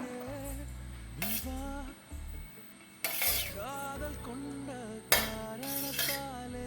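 Cooked rice is spooned into a lunchbox container, with a few clinks and scrapes of a serving spoon against the metal tin spaced apart, close by, over a soft tonal background.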